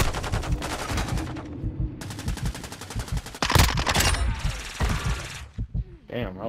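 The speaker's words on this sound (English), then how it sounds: "Damn, I was missing all my shots." Rapid automatic gunfire from a Call of Duty match comes in dense bursts, joined by a few louder single shots and explosive cracks, while players talk over the shooting.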